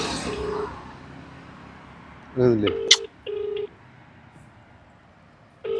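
A telephone dials out to place a call: several short, steady dial tones in separate bursts, heard alongside people talking and faint background noise.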